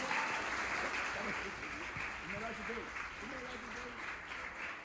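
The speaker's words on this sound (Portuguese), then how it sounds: "Dê mais uma vez um forte aplauso ao Senhor." Congregation in a church service clapping steadily, a dense sustained wash of applause with voices calling out over it throughout.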